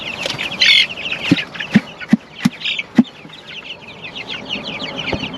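Chickens on a homestead cluck in the early morning, with a handful of sharp, fairly close calls in the middle and scattered softer clucks and chatter across the rest.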